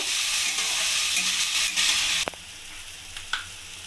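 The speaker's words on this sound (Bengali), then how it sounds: "এবার আমি সবজিটাকে একটু ভালো করে ভেজে নেব।" Vegetables for a veg sandwich filling sizzle and crackle in a frying pan, a bright steady hiss that drops after a couple of seconds, with a few stirring scrapes and clicks, near and without any talk.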